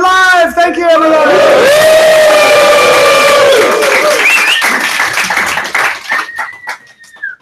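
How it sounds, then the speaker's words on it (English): A live studio audience in London cheers on request, a loud burst of whoops and shouts with clapping that fades toward the end, one voice rising in a high call. "I asked them to cheer, and they were very obliging."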